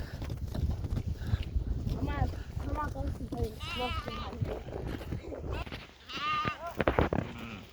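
Goats on a forest walk near Warsaw bleat repeatedly, several quavering calls from close by, mixed with a voice talking and the shuffle of hooves on the ground.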